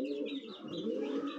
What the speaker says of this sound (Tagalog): Ganda ding ibon.